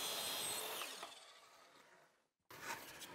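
A power saw cuts wood boards for a flat-file coffee table, a bright, loud buzzing cut that fades out, a brief silence, then the whine starts again.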